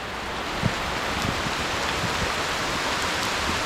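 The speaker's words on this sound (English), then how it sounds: "Oh, why are you raining?" Steady rain hiss fills the air on a forest hiking trail to Likeke Falls, Hawaii, with occasional louder drops pattering close by; no voices.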